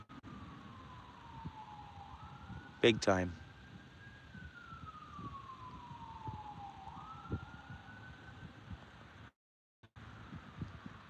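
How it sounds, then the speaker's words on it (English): A distant siren wails in slow rising and falling sweeps over a quiet outdoor backdrop where someone is fishing in Ontario, with a sharp nearby clatter early on and someone briefly speaking. "now we're hearing sirens"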